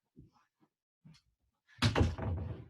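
A door in a family home is shut: a few soft taps and bumps come first, then a loud, close slam followed by a brief rattle as it settles.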